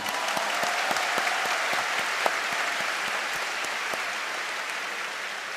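New university students applaud together in a large hall, a steady, dense wash of clapping that holds at an even level for several seconds without pause.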